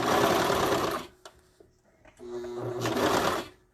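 Sewing machine stitching leggings fabric, a close rapid run of needle strokes that pauses briefly, then starts up again in a second burst.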